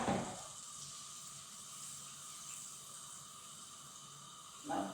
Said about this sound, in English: Now the butter is melted.